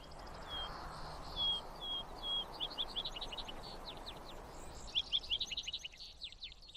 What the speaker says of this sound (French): où souffle une légère brise et où résonne le chant des oiseaux